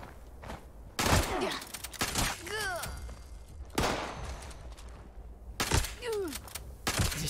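Shotgun blasts from a combat shotgun in Fallout 76, several loud booming shots with sharp onsets at irregular intervals, each followed by a decaying tail, amid game sound effects and swooping creature cries.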